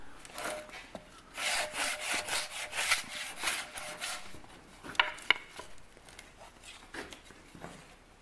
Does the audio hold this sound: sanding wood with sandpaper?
yes